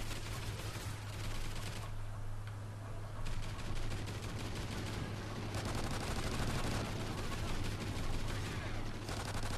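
Rapid-fire LMG bursts in Call of Duty, a dense, continuous stream of gunfire with a steady low hum beneath, loud and sustained throughout with brief dips in the upper crackle.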